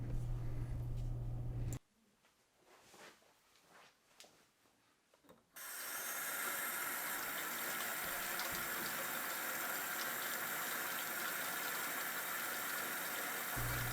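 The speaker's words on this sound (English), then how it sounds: "then turn on the faucet" A low hum cuts to near-silence, then a steady, fairly loud rush of water from a faucet starts and runs continuously to the end.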